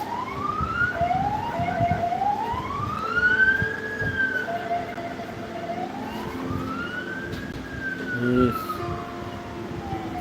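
Wailing emergency vehicle sirens sweep up and down along a Jerusalem street, one long rising and falling siren loud and fairly near over steady traffic rumble, with no voices.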